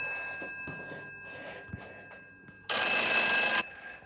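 A UK telephone on a PBX line rings with one loud, harsh burst of its bell, close by, after a stretch of quiet room noise and faint handling.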